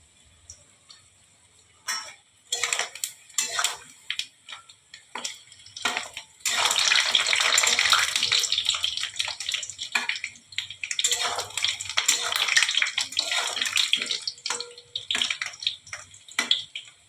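Fish roe pakoras fry in hot oil, a busy close sizzle and crackle that swells loudly and keeps bubbling, with a few sharp clicks and pops at the start.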